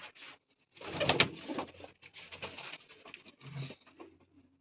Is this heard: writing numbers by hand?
no